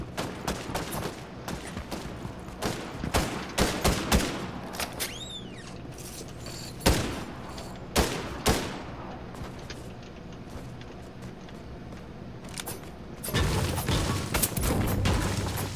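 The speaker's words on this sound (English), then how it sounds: "someone's shooting at me" Rapid bursts of gunfire in the Fortnite video game, sharp close shots in clusters and single cracks over a steady background, with a few heavier booms spaced through the stretch.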